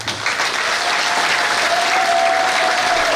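Loud, steady applause and cheering from a church congregation praising Jesus, filling the hall continuously without a break.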